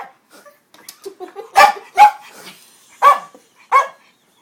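Dogs indoors at night give a few soft whines, then four sharp, loud barks spaced about a second apart, close by.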